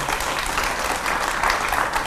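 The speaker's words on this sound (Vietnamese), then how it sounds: "Hỏi cho một tràng pháo tay nó khích lệ đi." Studio audience on a Vietnamese television show bursts into continuous applause, dense and loud clapping filling the whole short stretch with no talk over it.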